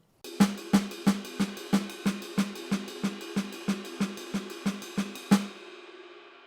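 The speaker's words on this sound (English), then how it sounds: "Whereas if it was just a single stroke roll," An even single stroke roll on a drum kit: about fourteen evenly spaced drum hits at a steady pace, ending with a louder accent and a ringing decay, close and alone.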